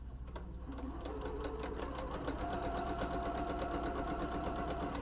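A sewing machine runs steadily, stitching fabric pieces together for a quilted needle book cover, with a fast, even mechanical chatter that stays close and continuous and has no talk over it.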